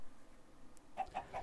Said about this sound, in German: Das sind ein Haufen Hühner, das gibt's gar nicht.